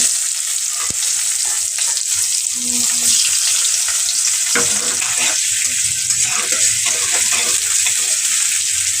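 Onions crackle and sizzle steadily in hot oil, a continuous loud frying hiss with occasional stirring scrapes throughout.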